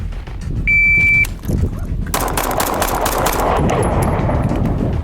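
Handgun shots fired rapidly during a practical combat shooting run, loud sharp reports in a quick string over a steady outdoor background, with a brief electronic timer beep near the start.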